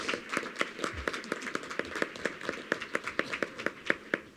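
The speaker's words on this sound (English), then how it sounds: "You certainly deserve a round of applause for the sacrifices that you've made as well." Sparse applause from a small audience at a public-comment board meeting, honoring veterans' spouses and relatives; a few hands clap in a fairly steady, moderately close rhythm for about four seconds, with no talk over it.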